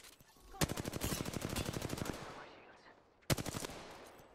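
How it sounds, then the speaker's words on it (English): Rapid automatic gunfire in a ranked online shooter game: a dense burst of around fifteen rhythmic shots lasting about two seconds, then a short pause and a single loud report, with no talk over the firing. "Listen up, I'm getting shot at."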